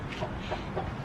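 Egg-laying hens on an urban backyard farm cluck softly in the morning, a few low, muffled clucks spread across a quiet background.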